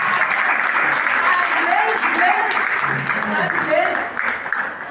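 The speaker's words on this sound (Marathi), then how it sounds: "सगळ्यांचे यांच्यासाठी टाळ्या" Sustained applause from an audience at the closing ceremony of a lavani dance training camp, a dense and steady wash of many hands clapping for the full stretch, fairly loud and close, with only a little crowd murmur mixed in.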